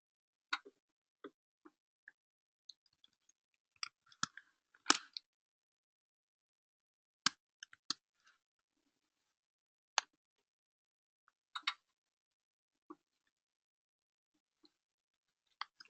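Typing on a computer keyboard while coding: sparse, crisp clicks and taps scattered over several seconds, sometimes in small clusters, close and quiet with no talk.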